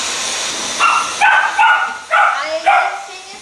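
Small dog, a new puppy indoors, giving a string of five or six short yips and whimpers in close succession, fairly loud and near, over a low steady background hum.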